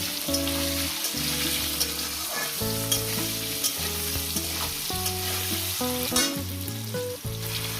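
Vegetables frying with salt and turmeric in a pan for a potato, eggplant and khesari greens chorchori, a steady close sizzle and crackle with stirring scrapes and no talk, under background music throughout.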